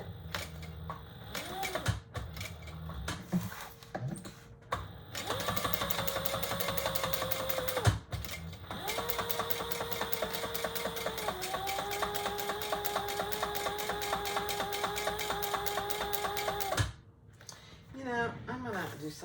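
A sewing machine topstitching around a pouch case, its rapid needle chatter running in long steady bursts with short pauses, a few quiet clicks and handling noises between runs.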